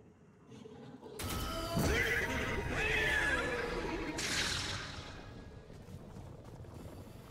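A horse in Destiny 2 lets out a loud, wavering whinny that rises and trembles for a couple of seconds, set against a rumbling background that eases off afterward.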